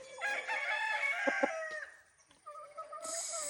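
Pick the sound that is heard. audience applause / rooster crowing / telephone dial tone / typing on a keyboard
rooster crowing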